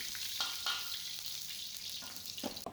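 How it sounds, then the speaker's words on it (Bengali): Whole spices sizzle in hot oil for tempering a Bengali breakfast dish. The hiss is steady and fairly quiet, with a few small pops and crackles, and no one speaks. "সবার প্রথমে ফোড়নটা দিয়ে দিলাম"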